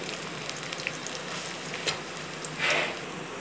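Onions sizzling and frying in a pan with garlic and chilies over a flame, a steady broadband hiss with a brief louder crackle burst near the end, no voices.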